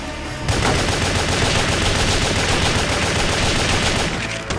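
Sustained automatic gunfire in the action video game WET on PS3: a dense, loud, continuous stream of rapid shots that starts abruptly and runs for about four seconds before cutting off.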